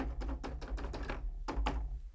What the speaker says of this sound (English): I'm going to try to tap my MIDI keyboard.